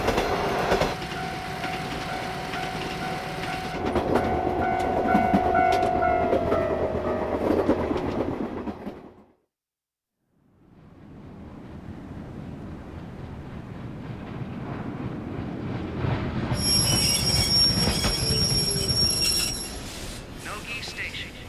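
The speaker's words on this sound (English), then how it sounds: "The train will be stopping here for 10 minutes." A train pulls into Nogi Station with rumbling wheels and high squealing tones, drops briefly to near silence, then the rail noise rises again with a thin, high electronic tone toward the end.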